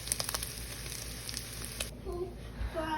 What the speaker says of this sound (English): we're going to throw that into our frying pan and enjoy the sounds of sizzling bacon